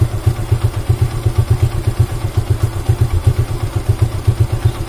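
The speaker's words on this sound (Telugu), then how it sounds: "చూసారా, నా బైక్ సౌండ్ అనేది బాగా తగ్గిపోయింది" A motorcycle idling with its RPM lowered, running close by with an even, regular low putter and light clatter, steady and unchanging across the whole stretch.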